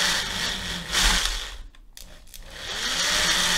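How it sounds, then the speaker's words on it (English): A power drill bores into a small plastic tab inside a Hasbro Ghostbusters Spengler's toy, giving a steady, loud whirring grind that dips briefly in the middle and then resumes at full strength. "we're gonna drill that tab if we can get to it without destroying our board"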